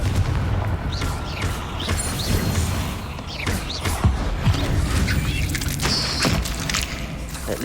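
Confringo fire blast spell cast in Hogwarts Legacy, booming bursts and crackling impacts popping off repeatedly among other loud game combat noise, with no talking over it.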